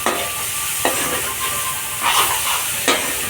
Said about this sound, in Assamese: মাংসটো ধুনীয়াকৈ ভাজি লওঁ এতিয়া